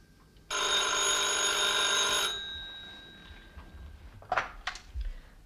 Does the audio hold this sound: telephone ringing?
yes